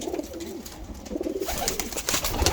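Ordinary pigeons kept in a breeder setup coo in soft, repeated low burbles nearby, overlapping each other amid light rustling and scratching.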